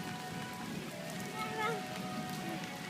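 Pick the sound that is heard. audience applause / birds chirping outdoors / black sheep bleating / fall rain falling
fall rain falling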